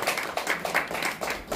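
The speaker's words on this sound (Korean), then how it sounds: "박수 한번 칩시다." Applause from a forum audience welcoming a guest lecturer at a seminar on an independence activist, rhythmic clapping with distinct hand claps standing out in a fairly close, steady burst.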